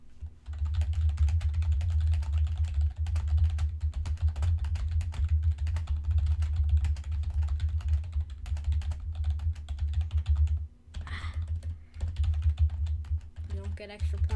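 Rapid, steady computer keyboard typing during a typing test fills the whole stretch at close range over a low hum, pausing briefly near the end while people talk.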